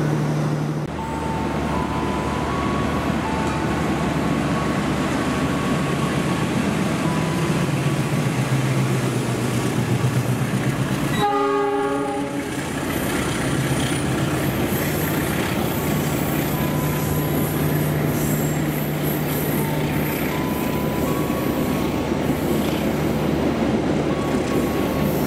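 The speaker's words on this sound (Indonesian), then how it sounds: "Jalur 3 melintas langsung kereta api Argo Parahyangan" The Argo Parahyangan passenger train roars straight through a station on track 3, a loud sustained rumble of wheels and engine, with a sharp horn blast midway before the noise continues steadily.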